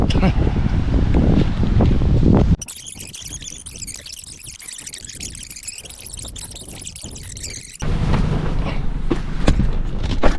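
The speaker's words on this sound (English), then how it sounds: "let me talk in the car, it's too windy" Strong wind buffets a microphone outdoors, a loud, broadband roar during the first few seconds and again near the end. A quieter, muffled stretch sits in between, and speech runs through much of the clip.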